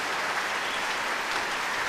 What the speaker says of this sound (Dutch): Een staande ovatie van het voltallige publiek hier in de grote zaal van het Concertgebouw.